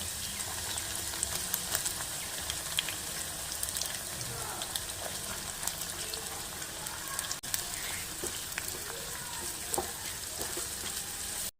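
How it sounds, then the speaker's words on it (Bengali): Chopped onions frying steadily in a pan for mutton, giving a continuous dense sizzle with light crackles throughout and no pauses. "পেঁয়াজটা দেখো প্রায় 8-9 মিনিট ধরে ভাজলাম।"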